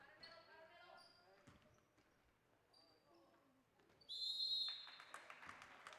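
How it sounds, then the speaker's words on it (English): A referee's whistle at a girls' high school basketball game sounds one sharp, loud blast lasting about half a second. Sneaker squeaks, bouncing and gym crowd noise surround it, and talk runs through the clip. "Whistle sounds on the way to the basket."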